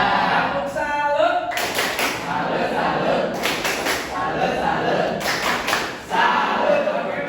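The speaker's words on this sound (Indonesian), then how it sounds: "Tepuk salut." Students in an Indonesian classroom perform a rhythmic salute clap, with short bursts of sharp group clapping spaced a couple of seconds apart amid shouted voices and room noise.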